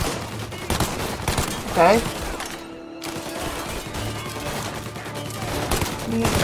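Gunfire in a Mafia: Definitive Edition shootout, bursts of rapid shots crackling through most of the stretch with a brief lull midway, under a short spoken remark.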